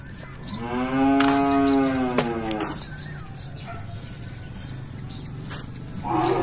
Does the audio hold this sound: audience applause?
no